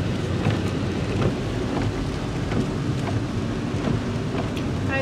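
Steady, dense rain pours down with a low rumble underneath, likely thunder or wind, filling the scene evenly and loudly for the whole stretch with no speech.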